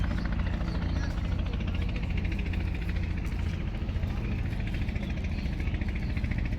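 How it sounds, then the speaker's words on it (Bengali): A milk-laden trawler boat's engine throbs steadily on the Turag river at Katasur, a continuous low rumble of moderate level throughout. "ট্রলার চলে যাচ্ছে।"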